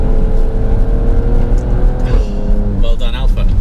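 A 2018 Alfa Romeo Stelvio Quadrifoglio SUV on the move, its engine droning steadily and loudly from inside the cabin, then revving higher near the end while someone talks over it.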